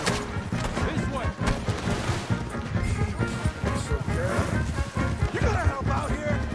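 Gunfire rings out in a Red Dead Redemption 2 shootout, with shots cracking in irregular bursts through a dense, busy game mix while voices talk over it.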